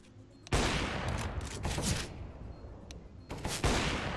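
Rapid bursts of gunfire in a first-person shooter game, a dense fusillade that starts abruptly and rattles on loudly and closely for several seconds before a short pause and another burst.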